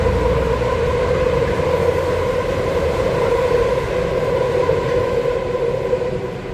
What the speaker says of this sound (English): now we're passing under the train track